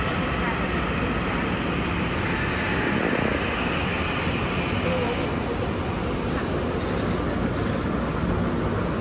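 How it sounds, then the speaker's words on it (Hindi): A train pulls into a station in Taipei with a loud, steady rumble and roar of rolling carriages, a faint screech of brakes near the end, and people talking under the noise. "ये अपनी ट्रेन आ गई है,"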